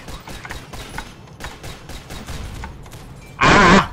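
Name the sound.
mortar firing in Synthetik video game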